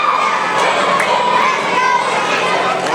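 Fans crowd the Rogersville Armory at a live wrestling show, their cheering and shouting a loud, dense, continuous roar filling the hall, with high voices standing out in the mix.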